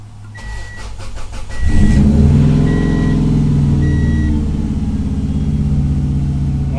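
A 1994 Subaru Legacy Turbo engine cranks briefly, catches and settles into a steady, loud idle, jump-started from a Camaro, close to the microphone with no talking.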